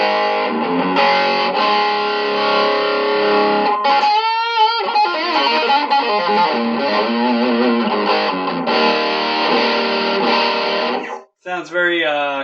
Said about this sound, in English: This one is the EVH 5150.